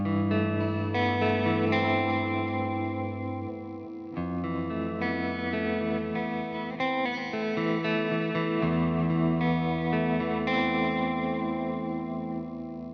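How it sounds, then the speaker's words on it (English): A Hartwood Charger electric guitar on its single-coil neck pickup plays sustained chords and notes with a warm, slightly effected tone, continuous and fairly loud with no talking. "I think I'm going to go single coil now, see what it's like on the single."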